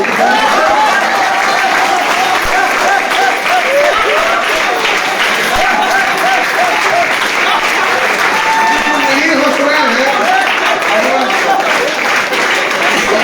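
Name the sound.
audience clapping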